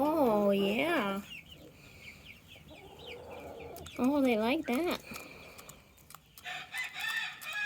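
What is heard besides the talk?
chickens clucking while eating sunflower seeds and grains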